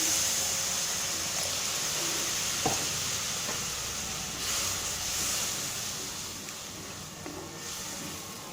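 Fenugreek tamarind gravy bubbles and simmers in a pan with a steady hissing, sizzling wash and a few soft pops, close and continuous.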